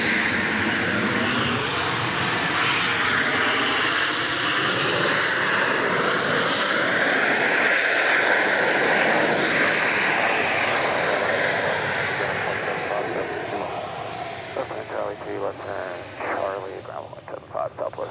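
An airplane at Dallas Love Field airport roars loudly and steadily for a long stretch, its engine noise swelling and then fading away with some fluttering as it passes.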